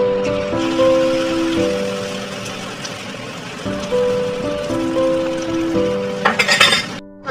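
Vegetable omelette frying in hot oil in a pan over a low flame, with a steady sizzle under a looping background melody and a few clinks near the end.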